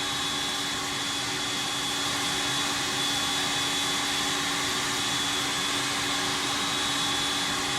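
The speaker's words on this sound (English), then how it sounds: "Right, let's start engine 1. Starting engine 1." A jet airliner engine spins up for start in the X-Plane flight simulator, a steady, loud broadband whine with sustained high tones holding evenly throughout, with no talk over it.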